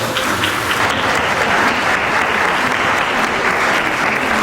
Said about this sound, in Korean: 뜨겁게 박수해 주시기 바랍니다